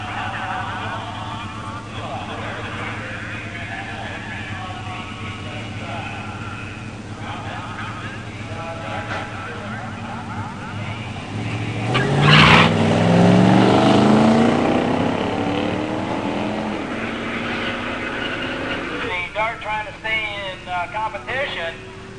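A 1969 Dodge Dart 340 automatic drag racing a 1987 Buick Grand National in a pure stock drag race, engines revving and surging loudly midway through, with an announcer speaking over the rumble before and after.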